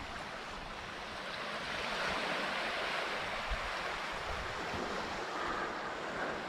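Broad, steady wash of surf on a quiet beach on the South China Sea at Cat Ba Island, Vietnam, a soft continuous roar at moderate distance with no voices.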